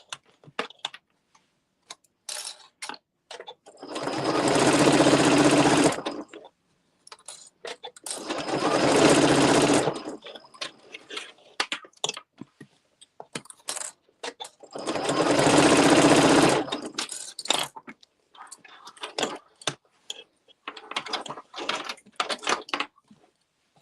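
A sewing machine stitches Luxe Cuddle fabric for a Fair Isle wrap in three distinct runs of a few seconds each, separated by quieter stretches of clicks and fabric handling.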